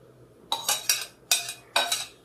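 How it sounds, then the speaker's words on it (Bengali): Pineapple pieces are dropped into a wok for a Bengali pineapple chutney, four or five quick clattering bursts of fruit hitting metal and a utensil clinking, close and distinct against near silence. "ওই আনারসের টুকরোগুলো আমি কড়াইতে দিয়ে দিলাম,"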